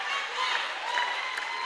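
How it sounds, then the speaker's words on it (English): A short, steady wash of audience applause fills a hall at a university business competition grand finale, with faint crowd noise underneath. "More applause, more applause. More applause for UEW."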